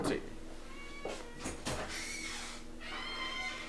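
A cat gives a couple of soft, drawn-out meows near a door, heard faintly under a person talking close by.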